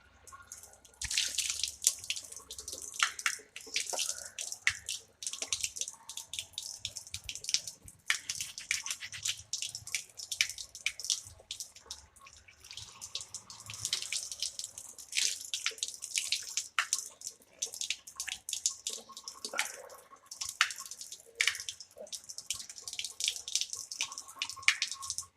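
A tap runs while someone washes their face during wudu. Water splashes and drips in soft, uneven bursts close by, continuous and fairly quiet throughout.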